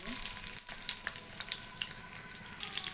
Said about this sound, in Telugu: ఇప్పుడు ఇది కలర్ చేంజ్ అయ్యే వరకు అయితే వేగనివ్వాలి ఇక్కడైతే నేను వెల్లిపాయలు వేసుకుంటున్నాను